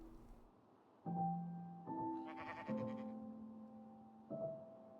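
Sheep bleating in the video game Minecraft, a series of wavering, nasal bleats in quick succession, fairly close and clear over faint background ambience.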